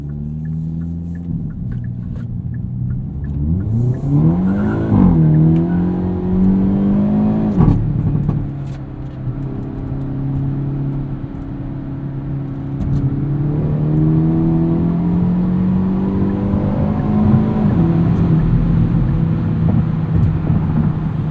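A 2022 Hyundai Elantra N with a dual-clutch transmission drives and accelerates, its engine note rising loudly through several gears, with quick shift dips between pulls and a steady road rumble beneath. No one speaks.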